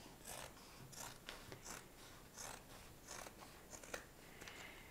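Scissors cutting through denim fabric for a notebook cover, heard as a faint, close series of crisp snipping and crunching strokes in an irregular rhythm, with no talking.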